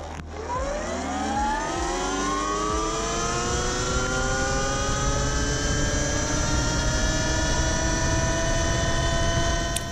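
A Surron Light Bee X electric dirt bike with a racing chain on a stock 48-tooth sprocket accelerates hard toward top speed, its motor whine climbing steadily in pitch over a constant roar, loud and close, with no talk.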